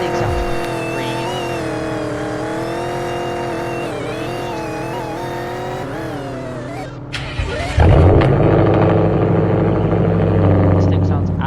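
A race car engine in a racing video game drones and revs with shifting pitch, then drops and roars back louder with a heavier tone, loud and close with speech faintly under it.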